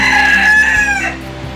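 A rooster at a zoo crows once, loud and close, with a long drawn-out call that tapers off at the end.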